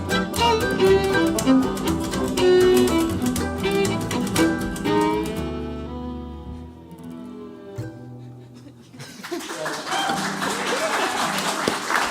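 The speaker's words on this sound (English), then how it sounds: "Give him a round of applause." Live audience applause breaks out after an Appalachian string band's fiddle number at a radio show, the music fading first and steady clapping swelling loudly over the last few seconds.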